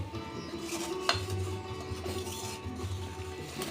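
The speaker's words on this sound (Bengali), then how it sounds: "এবার চালের সাথেও খুব ভালো করে আমি কষিয়ে নেবো" Rice, lentils, tomato and garam masala are fried and stirred in a pot, giving quiet, steady scraping with occasional sharper clinks of the spoon against the metal.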